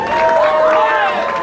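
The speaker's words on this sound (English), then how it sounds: "let's have a great big round of applause for our bride and groom" Wedding guests cheer and clap loudly for bride and groom Brian and Marziye. It is a short, close burst of whoops and voices over applause.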